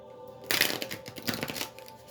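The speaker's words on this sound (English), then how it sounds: "I shuffled the cards and the wind from the cards blew the other cards away." Tarot cards being shuffled by hand make a quick papery riffle that starts abruptly and returns in a second burst before fading.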